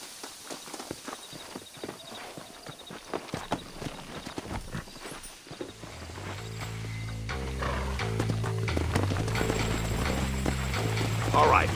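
Horse hooves clip-clopping in the Western video game Red Dead Redemption, a steady walking rhythm over a low ambient bed that swells into a louder rumbling stretch in the second half.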